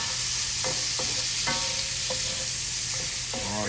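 Sliced apples frying in a skillet alongside pork chops, a loud continuous sizzle with the scrape and clatter of stirring utensils at irregular intervals, close up with no talk.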